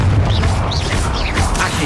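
A Confringo fire spell from Hogwarts Legacy erupts in a loud, sustained rumbling blast of low booming energy with bright crackling bursts layered on top, dense and continuous through the whole moment.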